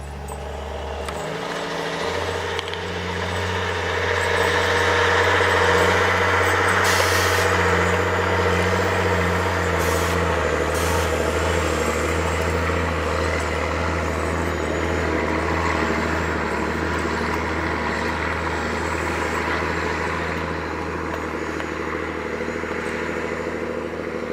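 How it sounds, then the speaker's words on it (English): Heavy-duty Scania log truck working, its diesel engine a loud, steady low drone that holds throughout, with brief metallic clanks and air hiss on top and no talk. "A heavy-duty Scania truck, specialized for loading and transporting logs, is getting to work."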